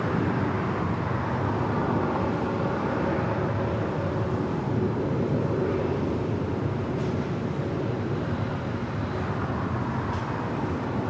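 An Air Canada Boeing 737 MAX 8 departing LAX produces a steady, broad jet roar that holds loud and constant throughout, with no talk.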